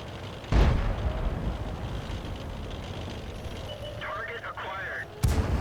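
Enemy artillery fire in the World of Tanks video game: two sharp booming blasts, one near the start and one near the end, over steady battle ambience with game voices in the background.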